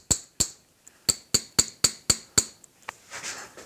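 A small metal rod, its point held in a divot, is tapped to loosen a cast aluminum Christmas tree from its mold: about nine sharp, bright metallic taps in a fairly steady rhythm, close and loud, then a few softer knocks and scraping.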